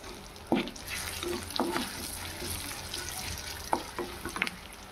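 Ginger and turmeric fry in a pan for a Telangana fish curry, a steady close sizzle punctuated by several brief clinks and scrapes of a stirring utensil.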